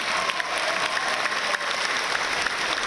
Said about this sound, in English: give them a round of applause, everybody